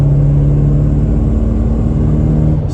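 Acura TSX with a full exhaust system pulling at light throttle, a steady close droning engine note with a strong low hum and even rumble throughout, no talking.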